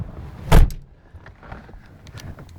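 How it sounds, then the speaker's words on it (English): The door of a TVR Chimera 400 British sports car shuts with a single solid, close thud, followed by faint interior rustling. "Closing the door,"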